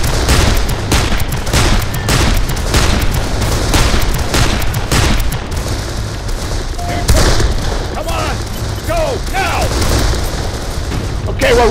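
Sustained video-game gunfire rolls on as covering fire, dense bursts of shots and booming blasts mixed with voices and battle noise throughout.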